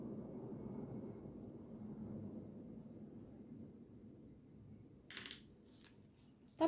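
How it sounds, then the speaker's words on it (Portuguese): An airplane passes overhead as a low, steady rumble that slowly fades, heard indoors during a quiet craft session, with a brief sharp clatter near the end. "Tá passando um avião bem na hora e tá fazendo esse barulho."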